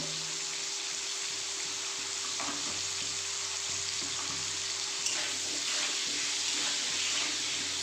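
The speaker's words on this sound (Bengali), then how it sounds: "একটু অল্প নুন দিয়ে আমি ভাজব" Potato pieces sizzle steadily in hot oil, with occasional clinks and stirring sounds over the constant frying hiss.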